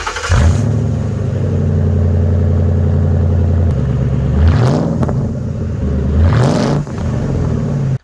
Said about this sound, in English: let me show you what a Crown Vic with muffler delete sounds like